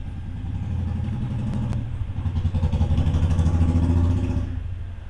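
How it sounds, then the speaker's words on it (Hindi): A motorbike passes outside, its engine a steady low rumble that swells and then fades as it goes by, heard indoors with no talking over it. "बाइक जाई थी बाहर से।"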